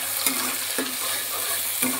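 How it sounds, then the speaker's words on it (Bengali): Onion, ginger and garlic paste sizzles steadily in hot oil, with a few soft scrapes of stirring breaking through the low, even frying hiss. "পেঁয়াজ আদা রসুন পেস্ট দিলে পরেই তেলের ওপর দিলেই ফুটতে থাকে"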